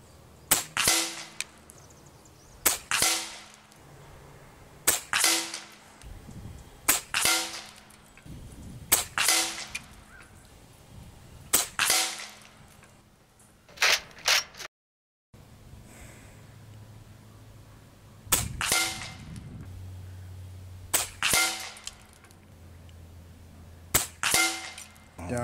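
Repeated sharp cracks of an FX Airguns BOSS .30 caliber air rifle firing a five-shot group outdoors in calm conditions, each loud snap spaced a few seconds apart with a low hum in the background.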